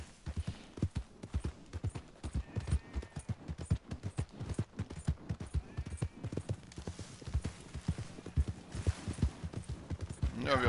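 Horse hooves clip-clop in a steady, moderately paced rhythm while riding at an easy pace in Red Dead Redemption 2, the even beats running throughout with a voice talking over them.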